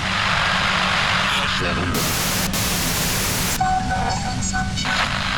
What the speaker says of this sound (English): A voice trails off into white noise in your head